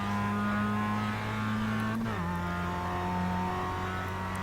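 A Mazda MX-5 engine holds a steady harmonic drone, then its pitch dips and settles as the throttle is applied, loud and continuous with no talking.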